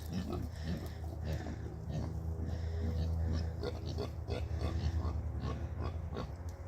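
A group of farm pigs keeps up a continuous chorus of close grunts and oinks, short repeated snorts overlapping at an even level above a low background rumble, with no one speaking.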